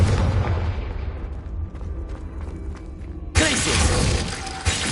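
A Confringo blasting spell explodes in Hogwarts Legacy, a loud crashing boom with shattering debris that fades into a rumbling tail before a second sharp blast bursts in near the end.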